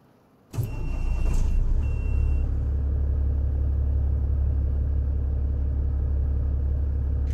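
A Peterbilt truck in American Truck Simulator cranks briefly, then its diesel engine catches and settles into a steady, loud, deep idle rumble that runs on alone.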